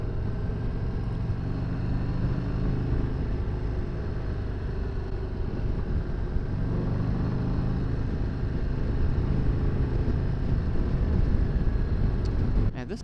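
2025 Harley-Davidson Heritage Softail underway on the road, a steady low engine rumble mixed with wind noise from the rider's position, continuous and moderately loud, with someone talking over it.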